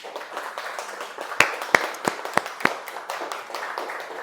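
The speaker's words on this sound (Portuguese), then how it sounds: "Pode aplaudir ao Senhor Jesus" Congregation clapping during a church service, a thin spread of scattered claps with several sharp, loud single claps standing out near the middle, fairly close.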